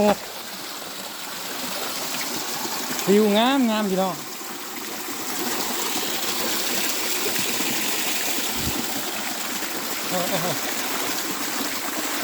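Flowing waterfall stream at an outdoor tourist spot, a steady rushing wash of water running throughout, with someone talking over it.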